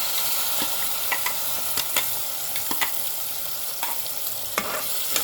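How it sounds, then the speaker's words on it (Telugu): Smashed tomato fries with bitter gourd curry in a pan, a loud continuous sizzle punctuated by repeated spoon scrapes and clicks as it is stirred, close up with no talk. "బాగా ఫ్రై చేయండి"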